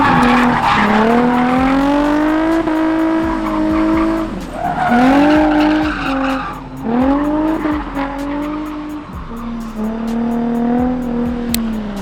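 A Nissan 350Z drifting sideways, its tires squealing in long, loud wavering screeches as the engine revs rise and fall, repeated over several passes close by with no talking.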